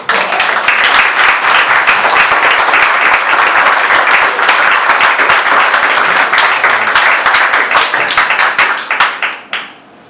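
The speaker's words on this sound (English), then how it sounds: "Let's give Jared one more big round of applause." Graduation audience applauding a homeschool graduate, a loud, dense burst of clapping sustained for several seconds before thinning and fading out at the end.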